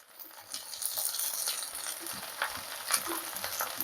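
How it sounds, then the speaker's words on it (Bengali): Chopped onion stalks frying in a pan with already browned ginger and garlic, a steady close sizzle with the scrape and clatter of stirring at a soft, even level. "আদা রসুনগুলো ভাজা হয়ে গেছে, এরপর আমি দিয়ে দিচ্ছি পেঁয়াজ কলিগুলো কুচোনো"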